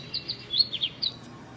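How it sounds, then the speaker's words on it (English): Finch giving a quick run of small, high chirps and tweets, clear and close over a quiet background. "The finch is a type of bird that can be found in the woodland."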